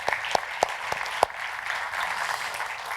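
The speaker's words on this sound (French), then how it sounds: "On peut applaudir." A room full of people applauds steadily after musicians perform, with a few sharp louder claps standing out early, then settling into even clapping.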